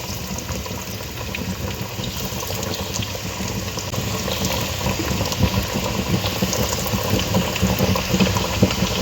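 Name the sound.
chicken nuggets frying in hot oil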